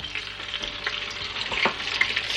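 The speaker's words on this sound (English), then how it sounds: "I need 1/4 cup of butter that I'm going to put in the oil." Butter melting in hot frying oil for apple fritters, giving a steady close sizzle and crackle with small spits and pops over a continuous hiss, no talking.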